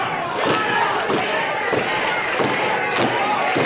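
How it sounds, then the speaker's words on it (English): A wrestling crowd roars steadily in support of the tag team Primal Fear, a dense, continuous wall of cheering broken by recurring dull thuds from the ring, with a voice talking over it. "This crowd getting behind Primal Fear"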